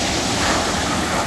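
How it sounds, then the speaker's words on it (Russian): Big sea waves roll in at Chkalovsky beach in Adler, Sochi, in late September, a loud, continuous roar of surf and wind with no voices. "Поднялись большие волны."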